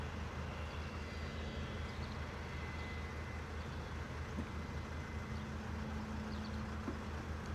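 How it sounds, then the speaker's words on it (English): Private jet taxiing out at a misty London Luton Airport, a steady broadband engine roar with a low hum, continuous and fairly loud throughout, no voices. "first private jet on the move, out the door"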